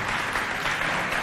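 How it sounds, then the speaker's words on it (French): Audience at a youth quiz contest between neighbourhood teams gives a short burst of steady applause from many hands, moderately loud and continuous throughout. "On applaudit quand même."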